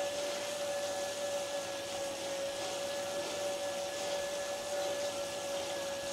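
A bicycle home trainer under steady pedalling gives off a constant, even whir with a sustained tonal hum, loud and close, with no talk over it.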